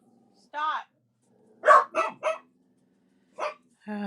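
A dog barks loudly and close in short separate bursts, a single bark then a quick run of three and two more, with a voice in between.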